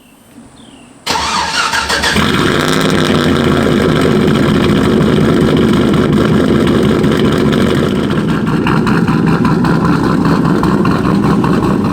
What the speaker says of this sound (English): So that's how the exhaust sounds right now with the stock manifolds and the exhaust I have on there right now